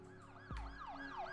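A wailing ambulance siren from the hospital management game Project Hospital sweeps up and down in repeated rising and falling cycles, loud and close, with a low thump partway through and no voices.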